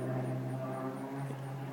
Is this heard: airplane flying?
yes